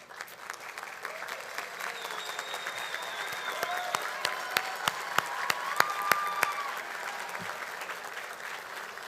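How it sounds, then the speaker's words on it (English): Graduates at an engineering school commencement stand and applaud their friends and family, a broad, distant crowd clapping that swells gradually, with a few sharper nearby claps and faint voices. "give a round of applause to your friends and family"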